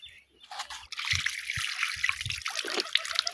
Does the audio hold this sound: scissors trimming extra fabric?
no